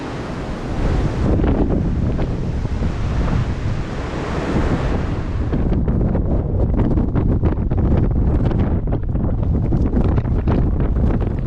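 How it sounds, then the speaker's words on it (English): Loud, steady wind buffeting the microphone outdoors on a wet hilltop climb during a bike ride, a constant roaring rush with gusty rumble throughout and no voices. "it's really wet and windy up here"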